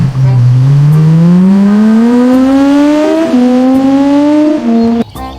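A voice mimics a toy F1 race car, a loud nasal engine buzz rising steadily in pitch like an accelerating racer for about five seconds before cutting off abruptly.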